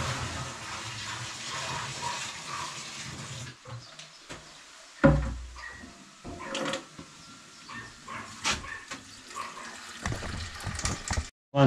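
Red wine runs out of a vessel during racking after fermentation, as a steady liquid gush and trickle. Several sharp clanks and knocks break through it, and the flow sounds close.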